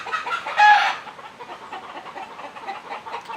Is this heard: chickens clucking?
yes